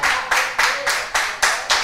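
A church congregation claps in steady rhythm during worship, seven evenly spaced, loud and close claps from many hands, with no voices.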